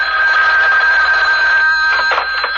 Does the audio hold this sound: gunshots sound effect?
no